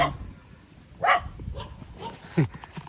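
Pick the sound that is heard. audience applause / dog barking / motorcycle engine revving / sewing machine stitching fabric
dog barking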